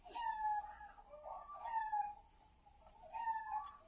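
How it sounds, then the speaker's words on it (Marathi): Chickens clucking close by at an old mud house in Konkan, India, a few drawn-out calls in quick bursts, with a faint high whine in the background. "कोंबड्यांचा आवाज येत असेल तुम्हाला"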